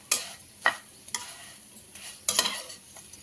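Bread pieces frying in a pan for bread halwa, with several sharp scraping stirs that rise over a faint sizzle at an uneven pace, close by and with no talking.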